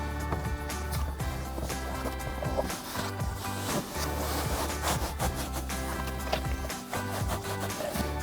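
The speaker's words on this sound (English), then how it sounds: "Next we can slide our seat back cover over the seat." Artificial leather seat back cover for a 2015-2018 Dodge Challenger sliding down over a car seat, giving a steady close scraping and rubbing with brief louder shuffles throughout.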